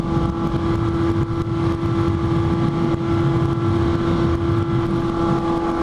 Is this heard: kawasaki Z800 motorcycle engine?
yes